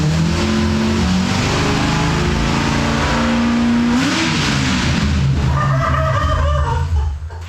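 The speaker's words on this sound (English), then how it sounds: "Gives a good old rev and then right off." A manual C8 Corvette drift car's engine idles loudly up close, climbs into a strong rev around the midpoint, then winds down and cuts off abruptly at the very end.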